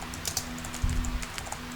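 Quick, light keystrokes tapped on a computer keyboard while entering a search into a box, a short run of close clicks with slightly uneven rhythm and a faint steady hum beneath.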